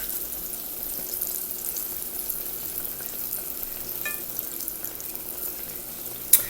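Soft, steady sizzle of eggplant frying in a pan, faint and continuous, with a brief light clink near the end and no talking.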